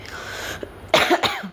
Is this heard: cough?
yes